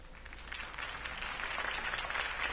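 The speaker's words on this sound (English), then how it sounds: "Only Mr. Wayne, my campaign's largest backer, could have heard that applause" Crowd applause from the Batman: The Telltale Series video game, a steady wash of many hands clapping at a political campaign rally, fairly even and continuous throughout.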